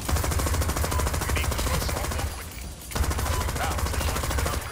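Rapid automatic gunfire in the Crime Boss: Rockay City heist game, a loud sustained burst of machine-gun shots that briefly drops off mid-clip and then resumes, with players talking.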